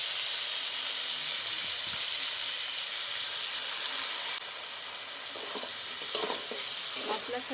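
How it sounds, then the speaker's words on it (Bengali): Bitter gourd fries with ground spice paste in a pan, a loud steady sizzle that eases partway through, followed by a few scraping stirs up close. "মশলার সাথে ভালো করে উচ্ছেগুলো নেড়ে নেড়ে মশলার কাঁচা গন্ধটা চলে যাওয়া পর্যন্ত ভেজে নেব"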